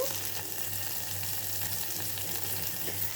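Curry leaves sizzle in hot oil for buttermilk rasam, a steady, soft frying hiss with no one talking.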